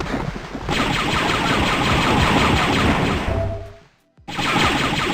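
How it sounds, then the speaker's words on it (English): Enemy gunfire in the Dark Forces Remaster video game: a loud, dense, continuous barrage of rapid shots that cuts out briefly near the end, then resumes just as heavily. "Stop shooting."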